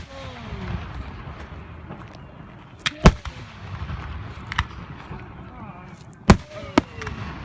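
Fireworks bursting at a park show, a few sharp booms spaced seconds apart, with crackling and distant pops under a steady murmur of crowd noise and voices.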